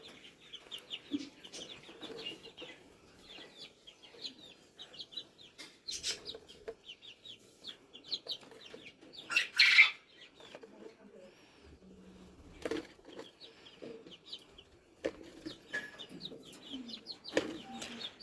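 Backyard hens cluck intermittently, near and fairly quiet, among scattered chirps and rustling, while a person talks at times.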